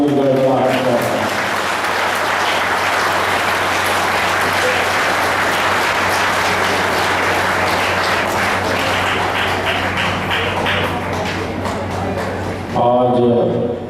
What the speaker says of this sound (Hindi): और विशेष रूप से हमारी मातृशक्ति के सम्मान में हम विशेष तालियों की गड़गड़ाहट करते हैं।